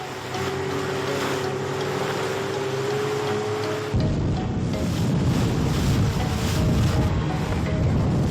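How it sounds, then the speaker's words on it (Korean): Rubber boat detached from a mother ship racing at top speed across the sea on a military infiltration run, a steady loud engine drone with rushing wind and water that grows rougher and louder partway through. "모선에서 고무보트를 분리 최대한 고속으로 침투에 들어간다."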